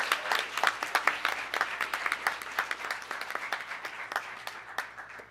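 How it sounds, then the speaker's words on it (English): An audience claps for an outgoing student executive at a council meeting, sustained applause with some distinct individual claps standing out, steady throughout and fading slightly toward the end. "let's get a round of applause for our outgoing executive."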